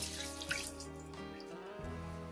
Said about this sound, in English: we can add a couple of glasses of water.